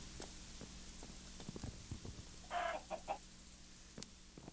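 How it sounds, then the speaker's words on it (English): Chicken stick in a Skyblock Minecraft game making a short burst of chicken clucking, faint and brief, over quiet background noise and small knocks. "You right-click it and it makes chicken noises."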